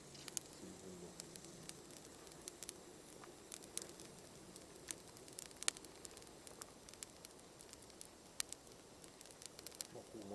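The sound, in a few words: damp firewood sizzling in a campfire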